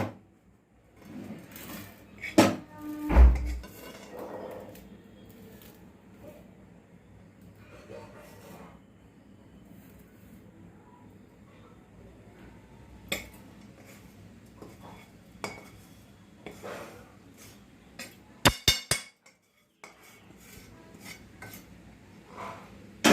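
Coconut burfi mixture being poured and handled in a metal plate, giving sporadic metallic clinks and scrapes with a few sharp knocks and bursts of clatter over a quiet kitchen background.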